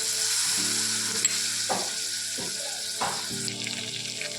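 Leftover shrimp cooking water is poured into a hot, sizzling masala in a pan, the frying hiss surging as it hits, with a few scraping stirs of a utensil.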